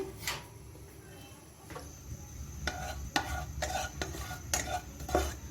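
Cardamom pods roast in hot desi ghee in a pan. A soft sizzle runs under intermittent spoon scrapes and metallic clinks from stirring, close and moderately quiet.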